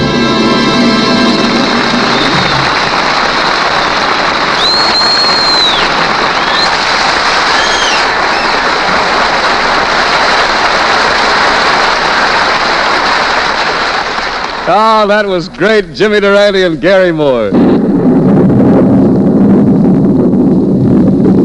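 Steady hissing rain sound effect on an old-time radio comedy broadcast, running continuously for most of the stretch while people talk and sing over it, before it cuts out near the end.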